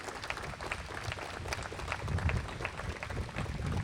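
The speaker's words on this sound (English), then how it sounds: "I do want to just give a big round of applause and hearty appreciation for Priscilla Ryder" A crowd outdoors at a trail opening gives a round of applause, dense clapping that swells slightly toward the end and stays steady throughout.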